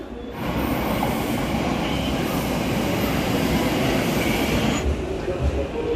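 A wrapped Keihan Railway train passes through a station, making a loud, steady rumble of wheels and motors that holds for several seconds before easing off slightly.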